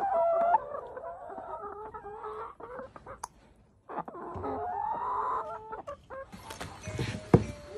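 Chickens clucking on a family farm, close and clear with irregular bursts of clucks and squawks, brief pauses between, and a rooster-like call near the end.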